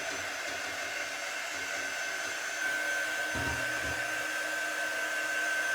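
A handheld quick-dry heat tool blows air over a chalk craft project in a steady, high whirring hiss that holds close and even throughout, swelling slightly louder halfway through, with no talk.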